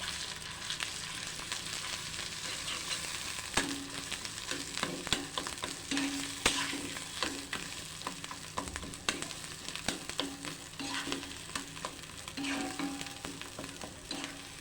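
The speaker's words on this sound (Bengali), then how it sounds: "এখন দিয়ে দিব ঝিঙ্গে বাটাটা, ঝিঙ্গের খোসা বাটা।" Ridge gourd peel paste fries in mustard oil, a continuous moderate sizzle broken by repeated scraping strokes and taps of a spoon stirring in the pan, with no talking.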